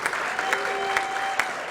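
Dinner audience at a chamber of commerce annual event applauding sponsors, a steady wash of clapping throughout with a few sharper claps standing out, moderately loud and continuous.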